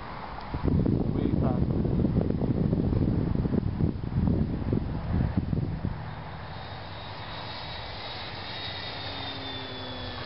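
Parkzone Spitfire RC plane with a brushless motor flying at full throttle into the wind, its motor a loud steady buzzing drone with wind buffeting, fading into a thinner whine as it passes away.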